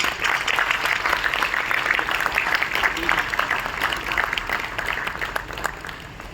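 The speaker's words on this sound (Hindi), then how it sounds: "जोरदार तालियां।" A crowd at a New Year event claps loudly and steadily throughout, a dense wash of applause that tapers slightly at the end.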